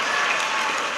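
An audience at a school ceremony for an honorary doctorate to the principal gives the teachers a steady, dense burst of hand clapping, loud and continuous with no voices on top.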